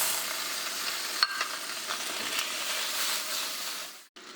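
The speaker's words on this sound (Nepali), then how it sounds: "तातिसकेपछि हामी सबभन्दा पहिला चाहिँ हामी यसमा चाहिँ चिकन हाल्न गइरहेका छौँ" Chicken pieces frying in a hot pan for chow mein, giving a steady bright sizzle and hiss close up for several seconds, with a few soft stirring scrapes before it cuts off abruptly.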